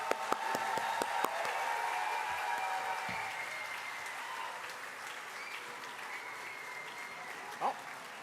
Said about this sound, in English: give a massive round of applause for the graduating class of 2026